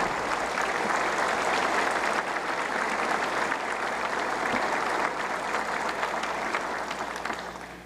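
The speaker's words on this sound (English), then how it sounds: "Let's give them a round of applause." An audience at the Hawaii State of the State Address applauds loudly and continuously, steady clapping from a large crowd that fades slightly at the end.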